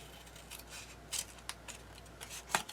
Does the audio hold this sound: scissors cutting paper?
yes